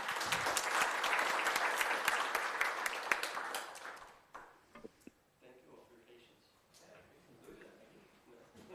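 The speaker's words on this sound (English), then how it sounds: "Big round of applause and we'll wrap it up there" An audience applauds at the close of a conference talk on vocabulary services, a dense burst of clapping for about four seconds that quickly dies away into quiet room noise with a few stray claps and faint voices.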